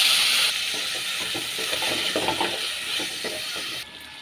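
Raw banana slices fry with onion and spices in oil in a pan, giving a steady close sizzle and hiss with faint stirring clatter throughout.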